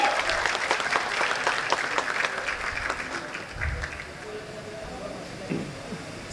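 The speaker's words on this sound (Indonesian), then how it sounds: "Maka dari itu tepuk tangannya." A crowd at a college graduation ceremony in Indonesia claps steadily in a dense patter of applause, fairly close, with a few low thumps and faint voices mixed in.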